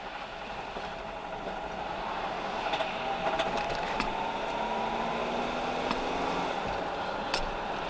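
A Land Rover Freelander engine labours under power while driving, a steady droning rumble with tones slowly rising in pitch and a few sharp rattling clicks, no talking over it.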